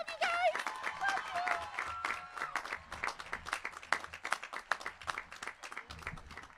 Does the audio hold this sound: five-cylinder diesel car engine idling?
no